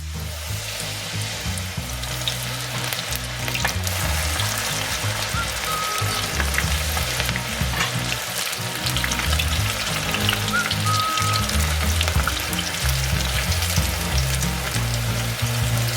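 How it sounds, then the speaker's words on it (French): Vegetables and mini asparagus in batter frying in hot oil for Korean fritters, a dense, steady sizzle and crackle that stays close and continuous throughout, with no talking. "Utilisez quelque chose de plat pour glisser les légumes dans l'huile, mais pas en plastique, ça va fondre."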